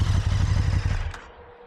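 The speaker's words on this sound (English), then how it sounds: "There's a nice sound to it. Very, very bassy, very throaty. Yet you do have that little whine coming from the engine." A 2023 KTM 1290 Super Duke GT engine throbs with a deep, throaty low rumble and a faint whine above it, running close by before quickly fading down.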